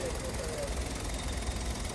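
The engine of a Kia Morning car runs at a steady idle, a continuous low rumbling hum with no change in pace throughout.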